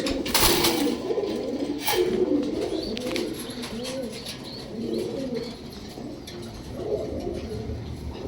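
A self-bred pigeon coos in soft, repeated low rolling phrases close by, with a few brief clicks and rustles around it and a steady background hum.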